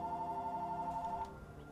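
A telephone rings in a steady electronic trill, loud and close, for over a second before cutting off, leaving low background noise.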